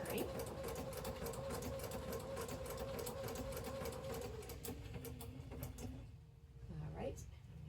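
A sewing machine running a blanket stitch on appliqué, a rapid even chatter of needle strokes that runs steadily and then stops, with a low voice faintly underneath.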